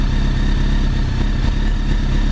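Motorcycle engine idling steadily and loud throughout, fitted with an electronic shifter actuator, with a constant low rumble and no distinct shift clicks or talk.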